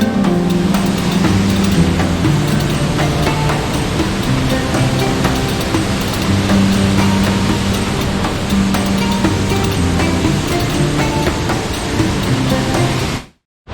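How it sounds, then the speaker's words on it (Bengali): Waterfall on a mountain trek, water crashing loudly in a constant roaring wash that fills the scene from start to near the end, with no talk over it. "জোরে জল পড়ছে।"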